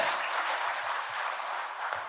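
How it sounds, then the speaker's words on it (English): An audience at a climate early-warning conference session gives the presenters a steady round of applause, a dense, moderately quiet clapping wash lasting the whole moment. "Please give us a round of applause."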